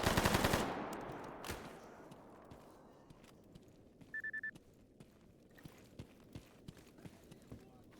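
A video game gun fires a loud burst up front, then the scene falls quieter with scattered single shots, footsteps and faint clicks trailing off.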